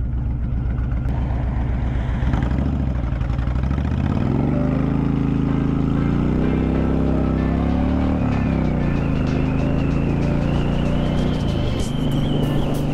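A motorcycle cruising along an open road, its engine droning loud and steady with rising and falling pitch as it shifts, wind rush mixed in throughout, no voices.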